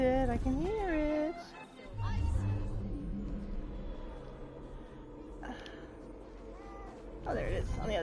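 A cat meows in Assassin's Creed Syndicate, several short rising calls near the start and again toward the end, with someone talking in between.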